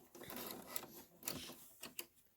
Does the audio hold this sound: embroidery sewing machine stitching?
yes